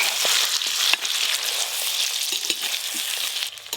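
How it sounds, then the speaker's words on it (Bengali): Mutton pieces fry in their own melting fat and oil for a curry, giving a steady, close, loud sizzle with a few sharper crackles and pops and no talking. "যত ভাজা হবে চর্বিগুলো গলতে শুরু করবে।"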